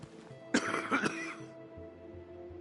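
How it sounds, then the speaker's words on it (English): A character in the video game Dying Light The Beast clears his throat and coughs a couple of times, close and fairly quiet over a low background hum. "That cough doesn't sound too good."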